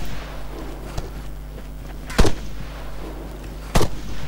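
Gunfire aimed at the player in the video game Arma 3: two sharp, loud shots spaced well apart over a low steady hum of game ambience, with a faint softer report earlier.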